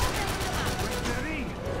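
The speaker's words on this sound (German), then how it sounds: "Ich werde ganz klar beschossen," Gunfire aimed at the player in James Cameron's Avatar video game on PC, a dense rattling barrage of shots filling the short clip at steady loudness.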